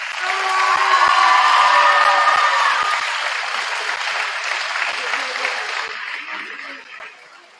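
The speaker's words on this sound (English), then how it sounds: "So let's give them a huge round of applause." Loud, dense applause from an audience at a high school fall sports award night, honoring athletes receiving scholarships, with some cheering and scattered voices mixed in, fading gradually toward the end.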